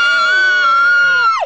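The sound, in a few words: group of people screaming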